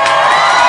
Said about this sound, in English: in front of this stunning crowd